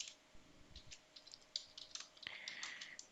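Rapid, irregular clicks of a computer keyboard as Python code is typed, close and fairly quiet, with no voices.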